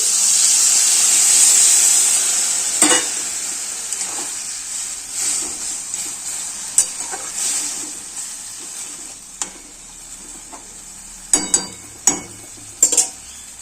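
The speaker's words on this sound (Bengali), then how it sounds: "গরম জল দিয়ে দেবো। এই গরম জল দিচ্ছি।" Hot water poured into a sizzling pan of okra (lady's finger) curry produces a loud hissing burst of steam that fades over a few seconds, followed by scattered clinks and scrapes of stirring, with no voices.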